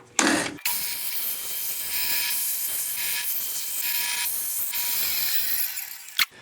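A bandsaw rips a thin strip of wood about three millimetres square, giving a steady, close, continuous buzzing cut for several seconds between a short start burst and a brief clatter at the end.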